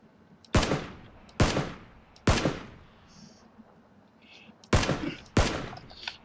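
Gunshots in PUBG, five sharp loud reports spaced unevenly across a few seconds, each with a short decaying tail, over quiet in-game ambience with a few faint electronic blips between them.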